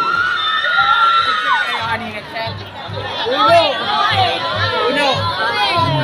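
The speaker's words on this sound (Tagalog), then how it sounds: "Pero mukhang mas malakas ang palakpakan na magmumula sa Bullo Elementary School." Elementary school pupils at a district athletic meet in Bocaue shout and cheer in a lively, sustained crowd roar, with children's voices rising and falling together and an announcer speaking over the noise.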